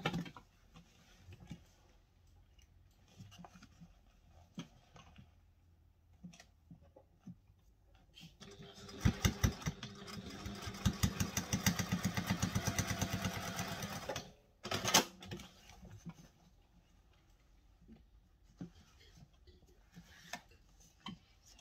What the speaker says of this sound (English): now we're going to sew up this bottom bit here